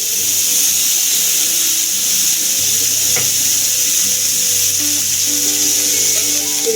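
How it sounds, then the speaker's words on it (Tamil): Fish frying in oil on a flat iron dosa griddle, a loud continuous close sizzle with an even crackle and a faint background hum, no talking. "இப்போ மீனை ஃப்ரை பண்ண போகிறோம்"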